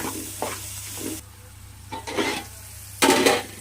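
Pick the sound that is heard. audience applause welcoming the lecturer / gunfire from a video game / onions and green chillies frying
onions and green chillies frying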